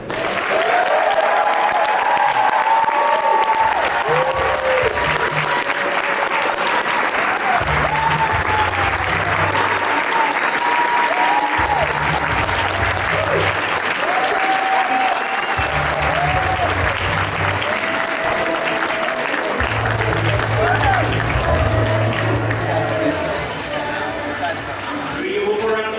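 Sustained applause from a large audience at a talk on Kangen water fills the room, steady and loud throughout, with occasional voices and music beneath.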